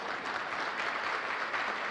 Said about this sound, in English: Feel free to applaud.